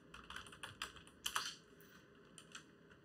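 A few quick, light taps on a computer keyboard as a command-click shortcut is pressed in a music production setup, close and clear with no talking.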